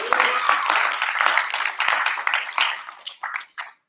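An audience at a live convention show, JoeFest 2024, gives a dense round of applause that holds steady and loud, then thins into a few scattered claps before stopping.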